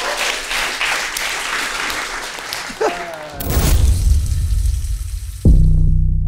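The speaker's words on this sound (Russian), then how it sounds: "Аплодисменты." Studio audience applause on a talk show, a dense, loud wash of clapping that fills the room and carries on steadily, with a short vocal sound just before it starts.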